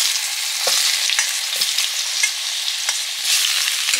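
Potatoes dropped into hot oil in a pan for a fish curry with dried red chillies, giving a loud, continuous hissing sizzle marked by a few sharp pops and stirring scrapes, with no voices.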